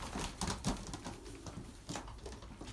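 Young pigeons settling into their new loft, soft cooing and fluttering close by, with a few brief louder bursts over a steady background hum.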